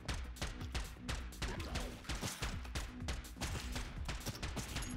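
Rapid gunfire from the roguelike shooter game Neon Abyss, a steady stream of loud, close shots punctuated by explosion-like bursts during a boss fight, with dense layered game music and effects throughout.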